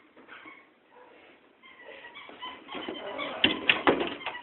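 A dog whines and whimpers softly at a guest bedroom door, with faint scratching and bumping against it growing louder toward the end; no one speaks.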